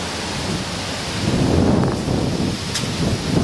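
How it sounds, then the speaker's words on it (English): Cold autumn wind blowing outdoors on a crisp, mostly clear day, a steady broadband rush that swells slightly midway, with faint rustling and no speech. "Hear that wind? It is cold."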